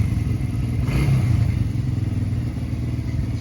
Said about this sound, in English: This is a 1971 Suzuki T500